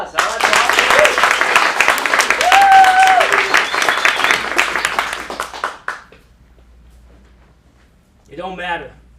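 An audience at a Phoenix acting studio's script showcase applauds after a scene: dense clapping for about six seconds that fades out, then a short burst of speech.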